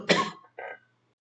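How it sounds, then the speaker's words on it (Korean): A man's cough: one sharp, throaty burst followed by a shorter second cough, close and alone. "죄송해요. 기침 때문에."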